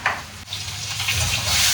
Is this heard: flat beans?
yes